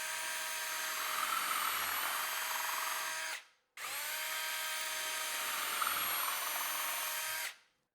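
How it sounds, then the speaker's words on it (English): A power drill with a countersink bit whirs steadily into a wood board in two long, even runs of about three and a half seconds each, separated by a brief pause, loud and close. "use my countersink bit to countersink these 2 through holes"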